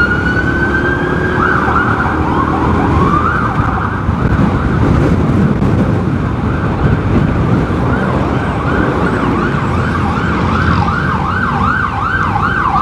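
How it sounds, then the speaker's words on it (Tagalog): An ambulance siren wails loudly and continuously in rising and falling sweeps as it passes behind a motorcycle in traffic, over steady road and engine noise. "Nasa likod natin yung ambulansya."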